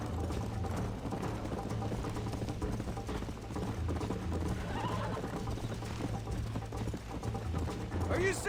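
A horse gallops with rhythmic hoofbeat clip-clop in the Red Dead Redemption video game, steady and continuous under talk, with a faint whinny.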